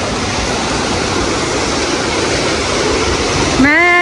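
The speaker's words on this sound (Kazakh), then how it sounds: "мына су күшті екен ғой" A strong mountain river in the hills near Almaty rushes past in a loud, steady roar that fills the whole stretch, with a brief voice rising over it at the very end.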